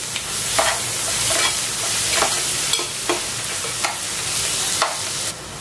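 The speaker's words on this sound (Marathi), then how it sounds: "त्यानंतर फोडणीत मी थोडीशी कोथिंबीर घालणार आहे आणि हे सुद्धा आता आपल्याला 2 ते 3 मिनिटं व्यवस्थित परतून घ्यायचं आहे" Ginger, garlic and coriander sautéing in hot tempering oil for a village-style dry chicken masala, a loud continuous sizzle broken by regular scraping strokes of a spoon stirring the pan.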